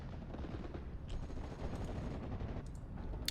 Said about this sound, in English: P-51 Mustangs making gun runs like crazy